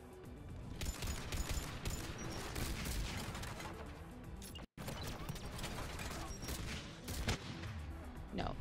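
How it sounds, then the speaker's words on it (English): Sustained, dense bursts from a mounted turret in the shooter Mass Effect 3, a continuous rattling barrage with mechanical clatter and a brief cut of silence halfway, carrying on steadily at a fairly quiet overall level. "Mounted turret."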